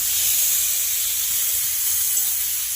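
Ground turmeric, chili powder and salt fry in a kadai for Bengali vegetable khichdi, giving a steady, close, bright hiss and sizzle with no pauses.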